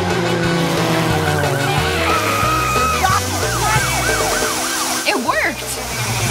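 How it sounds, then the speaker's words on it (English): In a cartoon, a fire truck arrives with its siren wailing, the rising and falling tones sweeping repeatedly over a steady engine rumble. A sharp squeal cuts in near the end as it pulls up. "Only a fire truck can handle this severe fire."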